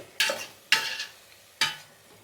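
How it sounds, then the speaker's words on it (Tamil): Small prawns being stirred into biryani masala in a pan, heard as three separate scraping strokes with brief sizzling, fairly close and with no voices. "இந்த மசாலாவோட இந்த ப்ரான்ஸையும் நல்லா மிக்ஸ் பண்ணி விடுங்க"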